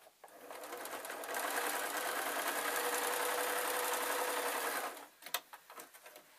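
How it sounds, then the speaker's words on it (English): A sewing machine stitches rag doll fabric in one steady, buzzing run of about four seconds, close and even, then stops and a few light handling clicks follow. "So definitely sew across the shoulders."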